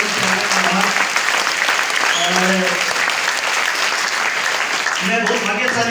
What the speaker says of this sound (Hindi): एक बार सबके लिए दोनों हाथ ऊपर करके ताली जोरदार ताली।